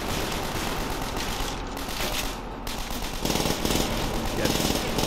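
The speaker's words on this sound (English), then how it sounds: "Why am I the only one shooting?" Gunfire in the World War II shooter Call of Duty: World at War, a continuous crackling barrage of rapid shots with heavier bursts in the later half, while a player talks intermittently over the din.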